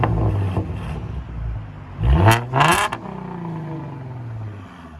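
A Ford Mustang V6 with true dual exhaust and an X pipe revs hard twice in quick succession, loud and close, the engine rising and falling before settling back to a steady idle.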